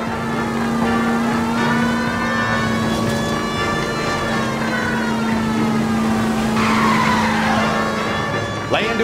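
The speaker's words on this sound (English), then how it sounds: "1247, Detective Phelps requesting immediate backup in pursuit of a stolen green Kaiser Frazier from 6 West 2nd Street." A stolen green Kaiser Frazier car is chased in the L.A. Noire video game, with a loud engine roar, a wailing siren and tire skids building near the end.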